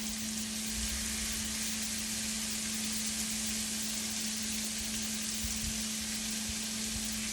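Shrimp sizzle in a hot pan with lemon juice, a continuous hiss that holds even and close for several seconds over a faint steady hum, without speech.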